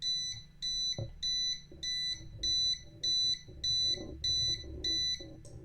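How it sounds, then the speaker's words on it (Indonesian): A buzzer on an Arduino gas leak detector beeps in a steady, even rhythm, about nine loud, shrill tones in quick succession, with faint handling knocks underneath. "maka dia secara otomatis akan menyalakan alarm dari buzzer"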